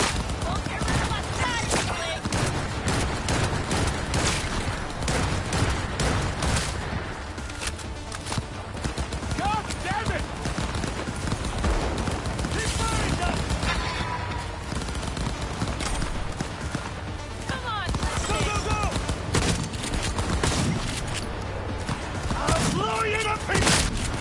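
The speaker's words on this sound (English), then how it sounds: "Stop shooting me!" Dense gunfire in the video game Cyberpunk 2077, with rapid shots and bursts crackling continuously for about 24 seconds over a busy game soundscape.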